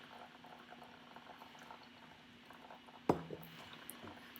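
Hot water is poured over coffee grounds in a Chemex for a second pour, a soft, bubbling trickle that runs steadily at close range, broken by a sharp clink partway through.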